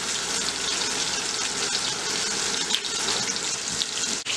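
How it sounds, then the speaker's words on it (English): Panko-coated chicken fries in hot bubbling oil, a dense, steady crackle and sizzle close up throughout, with a few brief sharp pops. "See that nice bubble? And that's when you know that you're cooking good."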